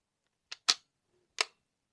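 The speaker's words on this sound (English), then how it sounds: "The main one that I got to first was the shutter mechanism. So I'll press it now" A DIY plastic twin-lens reflex camera's shutter fires in a quiet room: two quick close clicks, then a third crisp click about a second later, each dry and brief.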